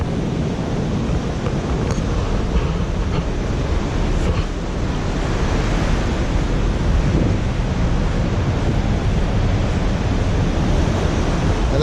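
Ocean waves rushing continuously onto the beach at Mori's Point, a loud, steady roar of surf mixed with wind noise on the microphone.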